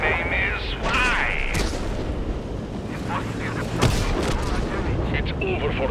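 Tank cannon fire in World of Tanks with an Object 140, heavy booming shots over constant engine rumble and battle noise, with a sharp blast near the middle and a voice talking throughout.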